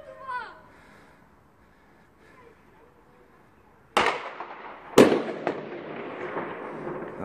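Pyrotechnic bird-scarer firework shots set off in a residential block on New Year's Eve eve, two sharp loud bangs a second apart with crackling tails, following a quiet stretch with faint voices.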